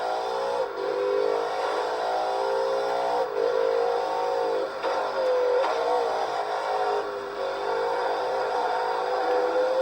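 A retro racing car engine accelerating hard out of a corner on a track lap, a loud steady high-revving drone that rises in pitch through several gear changes, with no talk.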